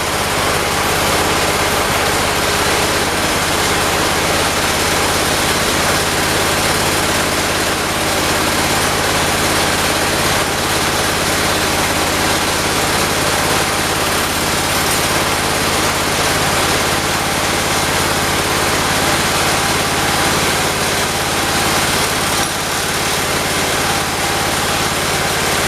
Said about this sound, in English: That tractor don't like to idle.